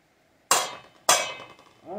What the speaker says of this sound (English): just going to try and scrape all this little extra off the top